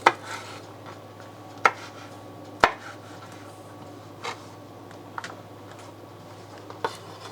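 Knife chopping ingredients on a cutting board for Thai fish cake patties, a few sharp, scattered thunks and taps spread apart over a quiet kitchen hum.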